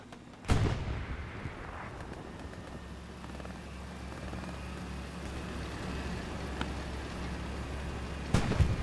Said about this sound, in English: Bombing run coming in on the border.